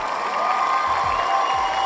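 A studio audience applauds in a dense, steady wash of many hands clapping, loud and unbroken for the whole stretch.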